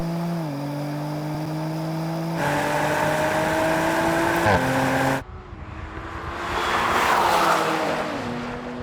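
Loud, close high-performance engines at full throttle from an AMG C63, BMW M3 and Audi RS4 drag race, rising through gears with shift dips, then a rough, roaring burst of wind and engine noise.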